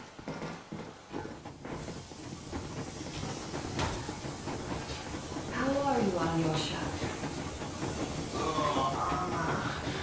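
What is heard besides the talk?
steam locomotive train moving, from video game Metro Exodus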